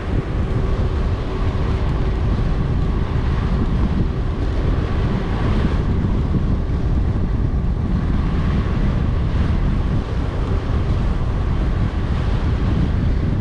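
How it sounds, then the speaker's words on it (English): Strong wind roars and buffets a GoPro microphone continuously while mountain biking the Upper Sugarloaf Trail, a dense low rumble with no pauses. "it's windy this way"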